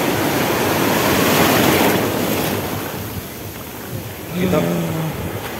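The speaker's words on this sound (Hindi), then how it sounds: "You can see the wave." Steady wash of ocean waves and surf with wind noise, a swell rising near the end, and a voice briefly heard.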